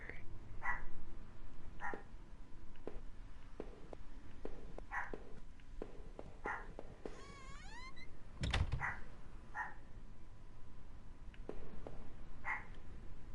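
A dog barks in the background of a room, its sharp yips repeating at intervals over steady keyboard clicking and a low hum, with a brief squeak midway.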